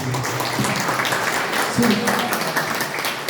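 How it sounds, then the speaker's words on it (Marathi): Audience applause for gondhal folk performers, clapping mixed under a voice addressing the crowd throughout. "कलावंतांसाठी एकदा जोरदार टाळ्या व्हायला पाहिजे"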